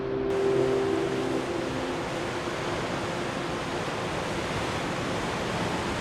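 Ocean waves wash onto a tropical beach at sunset in El Nido, a steady broad rush of surf mixed with wind buffeting the microphone, continuous and even with no voices.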